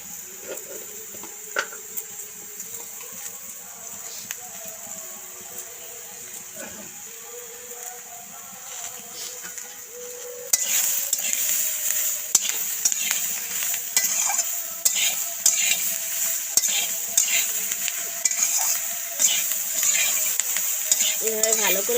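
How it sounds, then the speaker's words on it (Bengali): Potatoes, eggplant and onions fry in a pan with a soft steady sizzle, then louder, near sizzling with repeated scraping and stirring strokes of a utensil from about halfway through. "এভাবে ভালো করে ভেজে নেব।"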